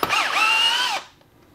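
A power drill whirs in a single short burst, about one second, while driving screws out of a 3D printed slip-casting mold, its pitch dipping then rising before it stops and a faint click follows.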